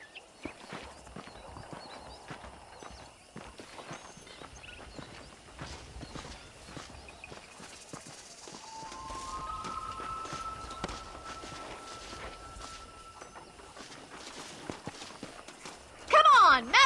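Horse hooves clip-clop steadily over ground while a rider herds cattle in Red Dead Redemption, moderately near under ongoing spoken dialogue, with a rising tonal game sound in the middle and a loud burst at the end.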